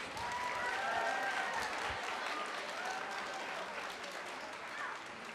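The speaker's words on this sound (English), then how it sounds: "one more round of applause for both steel pan groups." Audience at a middle school winter band concert gives a round of applause for steel pan groups, a sustained crowd clapping that swells early and then tapers slightly, with a voice faintly audible underneath.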